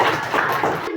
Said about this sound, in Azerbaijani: Alqışlayaq yoldaşımızı.